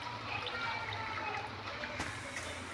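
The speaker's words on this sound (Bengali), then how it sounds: "তো তার জন্য আমাকে একটু জলটা এখান থেকে কমিয়ে নিতে হবে।" Water drained from a home aquarium planted with Amazon sword, red water lily, koi and blue gourami makes a steady close trickling and gurgling flow, alone without talk.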